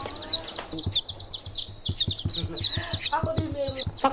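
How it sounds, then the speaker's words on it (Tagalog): Many chicks peeping together in a shrill, busy chorus, with clucking fowl and scattered knocks underneath, fairly close. "Ba't ang daming sisiw?"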